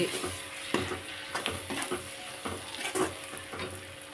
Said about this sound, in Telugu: కరివేపాకు లైట్ లైట్గా వేసేయండి వేసి ఒక్కసారి మిక్స్ చేసి